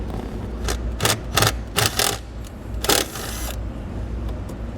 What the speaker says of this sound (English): I'm going to use the self-tapper that comes in the kit to mount it